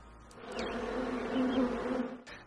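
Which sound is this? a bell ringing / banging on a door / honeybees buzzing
honeybees buzzing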